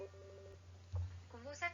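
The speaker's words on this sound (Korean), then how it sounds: "그 스팸 전화가 와가지고" A telephone rings from an incoming spam call, a faint, brief electronic tone pattern under a steady hum, then a voice speaks.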